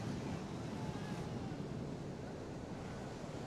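Sea waves wash steadily along the shore, a continuous broad roar of surf with some wind buffeting the microphone, heard fairly faintly and without a break.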